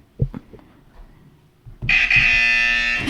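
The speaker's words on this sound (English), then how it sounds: "Don't forget about your buzzer." A few soft knocks and shuffles, then a loud harsh electronic game show buzzer blares and holds steadily until the end, during a trivia game.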